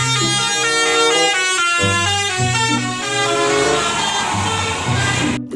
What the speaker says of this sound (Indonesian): bus telolet.